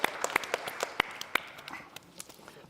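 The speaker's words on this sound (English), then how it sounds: "Let's use our hands and clap." Scattered hand claps from a church congregation at a Sunday service, a loose handful of sharp claps spread unevenly over a couple of seconds, fairly faint and slowly thinning out.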